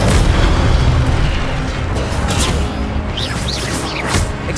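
Incendio fire spell from Hogwarts Legacy bursting in a loud, booming explosion that rolls and crackles, with whooshing flares trailing off over several seconds.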